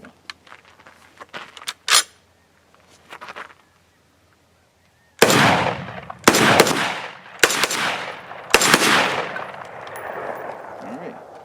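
Rifle shots from a Ruger Mini 14 fired outdoors in the Arizona desert, four loud sharp reports spaced about a second apart with ringing decay, preceded by faint clicks and handling noises.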